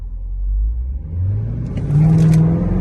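A tuned 2021 Dodge Durango R/T with a 93-octane tune launches hard from a dead stop, its engine note climbing loudly and steadily in pitch as it revs up, close and unaccompanied by talk.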